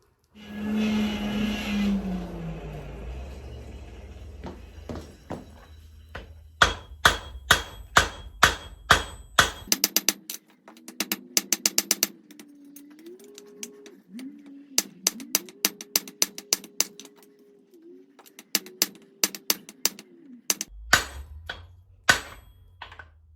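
A welded eye hammer is struck back into shape with a hammer, sharp metallic blows in quick clusters and then spaced strikes over a long stretch, with a low motor-like whine running between the hits, close and loud.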